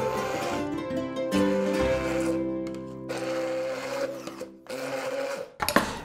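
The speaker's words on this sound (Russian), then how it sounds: "Тунец отправляется в стакан, мидии сюда же, и немного пожужжать блендером." A kitchen blender whirs as it blends tuna and mussels in a glass for a tapas filling, a steady loud motor hum with pitch shifts and short pauses between bursts, alone without talk.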